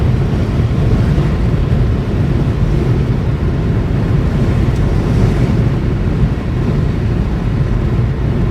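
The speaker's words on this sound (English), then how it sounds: "the wind has picked up within the last 15-20 miles" Strong storm wind roars and buffets a microphone steadily and loudly, a dense unbroken rumble with no talk.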